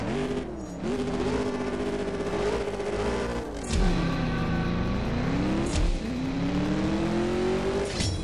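A Camaro C28 in the CSR Racing 2 mobile racing game launches and races, its engine revving hard through rising and falling gear changes with brief shift breaks, loud and continuous with no talk.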